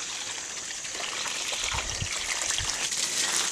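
Garden hose spraying water onto plants in an organic no-dig vegetable and flower garden, a steady hissing trickle and gush running throughout at moderate level with no talk.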